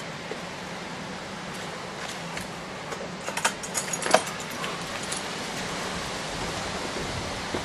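Keys jangling while someone searches for a key, a cluster of metallic clinks and rattles in the middle, over steady broadband background noise.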